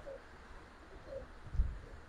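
Giribaz pigeons cooing softly, a few faint low coos spaced apart over a quiet background with a brief thump.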